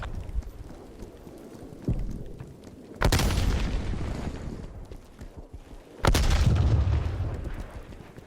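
Two heavy artillery explosions in the video game Call of Duty: Black Ops Cold War, each a sudden loud boom with a long rumbling decay, about three seconds apart, over a low background rumble.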